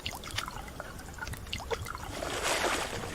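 Water is poured out for animals in the survival video game Subsistence, a quiet splashing trickle that swells toward the end after a few soft clicks.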